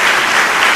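Church congregation clapping in unison during a Portuguese-language worship service, a dense, steady wash of applause at full level with no voices over it.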